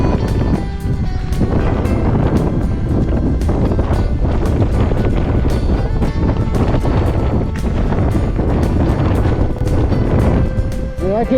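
Strong wind gusts buffet a hiker's microphone on the exposed peak of Mt. Katahdin along the Appalachian Trail, a loud continuous roar with rumbling bursts and no pause.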